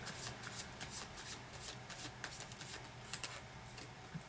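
Tarot cards being shuffled by hand, a steady run of soft papery riffles and slaps that continues throughout, close and fairly quiet.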